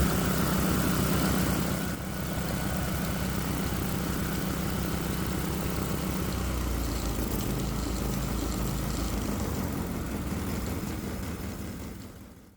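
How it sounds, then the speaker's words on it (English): A Predator 212cc engine fitted with port fuel injection runs steadily, its loud, continuous drone holding an even pitch from start to finish, with a brief dip near two seconds and a fade at the very end. "Overall, the engine runs okay"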